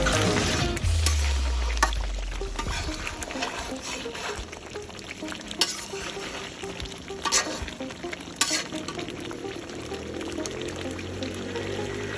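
Chicken korma with milk being stirred in a frying pan: continuous sizzling and bubbling with scraping spoon strokes and occasional clinks against the pan, moderately close, a voice briefly at the start.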